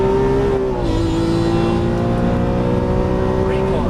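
A Lamborghini Aventador LP700-4 accelerates on a racetrack with a loud, sustained engine howl heard from inside, its pitch holding and then rising again, with a voice talking over it.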